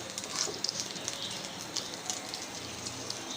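Whole spices such as cinnamon and cardamom fry in hot oil for chicken biryani, giving a soft, continuous sizzle with scattered light pops and crackles, fairly quiet and close.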